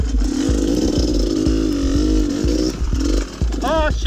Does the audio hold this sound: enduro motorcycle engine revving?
yes